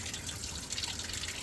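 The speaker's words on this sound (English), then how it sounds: "I'll just run fresh water in through the hookup for that" Fresh water runs steadily into an RV through its hookup, a continuous hissing, trickling flow heard close and alone.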